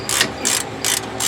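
A ratchet fitted with a low-profile socket works on the front hub of a 2003 Chevy Suburban, giving four quick bursts of sharp, close-up clicking with short pauses between them and no voices.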